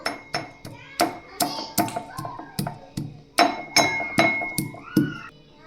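Garlic chutney and salt are pounded in a mortar with a steady run of sharp, close knocks, roughly two per second, each ringing briefly with a hard, clinking tone.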